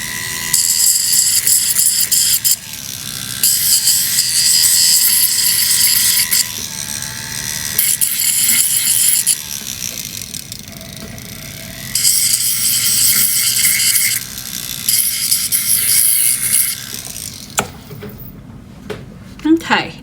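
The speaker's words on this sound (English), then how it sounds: "it'll be much easier to just go ahead and sand those out" Square silver wire, coiled for rings, is sanded to remove tool marks in repeated rasping bursts of several seconds each, close and fairly loud, with a person talking throughout.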